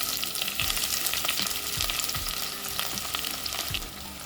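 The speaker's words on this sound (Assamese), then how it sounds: "পিঁয়াজখিনি গোল্ডেন ব্ৰাউন হোৱালৈ ফ্ৰাই কৰিম" Onions frying in hot oil with whole spices for an Assamese goat mutton curry, a steady dense sizzle close by, with low scraping thumps of a spatula stirring the pan.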